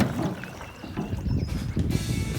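A canoe is paddled through water, with soft sloshing and dipping strokes under wind noise on the microphone, fairly faint and continuous.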